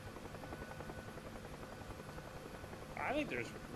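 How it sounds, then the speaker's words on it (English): Helicopter engine and rotor drone from DCS World, a steady continuous hum running throughout at moderate level, with a brief whistling tonal swell near the end. "helicopter is just drifting."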